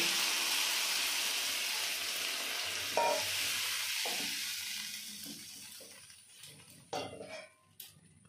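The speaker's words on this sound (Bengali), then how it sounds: "দিয়ে দেবো এবার পরিমাণ মতো জল।" Water poured into Bengali-style masala taro curry with Kashmiri chilli powder, frying in a pan: a loud close sizzle gradually dies down, followed by scattered clinks and scrapes of a utensil against the pot.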